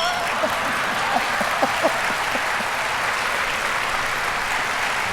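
Audience at a ceramics closing lecture clapping steadily, a moderate even patter of many hands across the whole stretch, with a few sharper claps standing out near the start and no speech over it.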